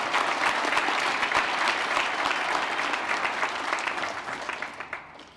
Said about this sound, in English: let's give these 4 very deserving students a round of applause.